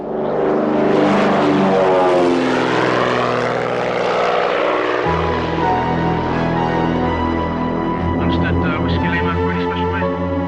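A propeller airplane takes off: a loud, steady engine drone whose pitch and tone shift partway through, with faint voices underneath.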